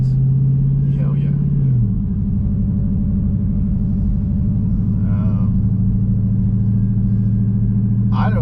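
A Dodge Challenger Hellcat Redeye with a muffler delete drones steadily from inside the cabin while driving, a loud continuous low exhaust rumble whose pitch drops and settles early on, with brief voices breaking in now and then.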